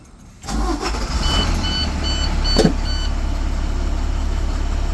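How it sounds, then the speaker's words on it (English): A bus engine cranks and catches, then settles into a steady low idle rumble, with a brief clunk partway through and a faint electronic chime pattern above. "And then I will start the bus."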